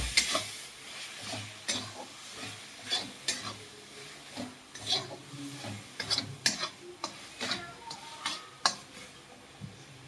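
Kashmiri red chili powder being stirred into a sizzling pan: a soft frying hiss under a busy run of spoon clicks and scrapes against the pan, fairly quiet and close.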